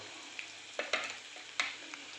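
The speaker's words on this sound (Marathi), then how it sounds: "कांदा छान परतून झाला आहे आता आपण त्यात मिरची आणि लसूण पेस्ट कढीपत्ता छोले मसाला" Onion fries in a pan with chili-garlic paste and curry leaves, making a faint, steady sizzle. A few sharper crackles and spatters stand out as the mixture is stirred.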